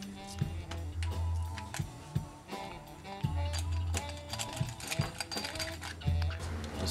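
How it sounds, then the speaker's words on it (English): Ratcheting, clicking turns of a mount being screwed onto the underside of a Nikon P900 camera with a 1/4 inch wing nut, a steady run of close mechanical ticks and scrapes with recurring low thumps. "Just screws to the bottom of the camera."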